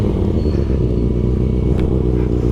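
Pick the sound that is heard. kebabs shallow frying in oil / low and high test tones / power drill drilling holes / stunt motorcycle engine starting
stunt motorcycle engine starting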